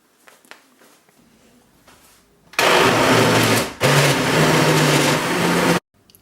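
A kitchen blender whizzes up a batch of soup with plenty of liquid, a loud steady roar that starts abruptly, dips for a moment, then resumes before cutting off, after a few quiet knocks of ingredients going in.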